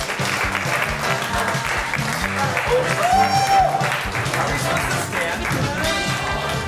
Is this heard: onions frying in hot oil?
no